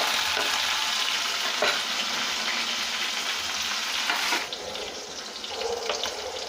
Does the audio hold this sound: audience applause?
no